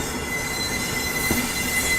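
Udaipur City–Khajuraho Express passing through Agra Cantt station without stopping, a loud, steady rumble of railcars with wheels squealing against the rails throughout, close by and with no talk.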